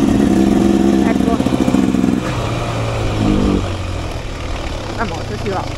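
Beta Xtrainer 2024 motorcycle engine running with a low, lumpy idle and a brief clatter, then dropping off, outdoors, while a person talks nearby.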